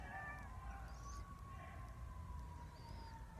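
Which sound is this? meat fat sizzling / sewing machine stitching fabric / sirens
sirens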